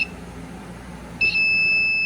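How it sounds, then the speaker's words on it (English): A quiet hum gives way partway through to a sudden, steady high-pitched electronic buzz from a fencing test box, signaling proper grounding, that holds loud and continuous to the end. "the buzzer, which is underneath the panel here, tells you that it's grounding properly"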